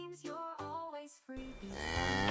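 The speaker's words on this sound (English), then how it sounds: "Cow," A cow mooing in clear, close, drawn-out calls, a short low moo followed by a longer rising one, with no other sound around it.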